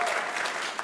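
A short burst of audience applause at a comedy show launch event, moderately loud and steady under a faint murmur of the crowd.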